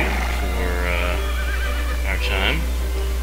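Cavalry horses of a Regiment of Horse neigh in an Empire Total War battle, a rising whinny and a second shrill call cutting over a constant low game hum and battle din, with a voice faintly present.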